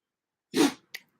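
One close, loud sneeze indoors, a burst of breathy noise, then a brief sharp sniff or exhale a moment later, with nothing else around it.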